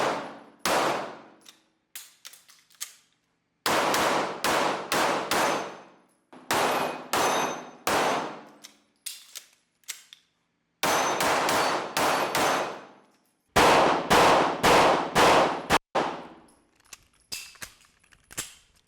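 Spare magazines of a Flux Raider SBR drop out and clang in repeated sharp metallic bursts, loud and close, with short silences between clusters of clatter.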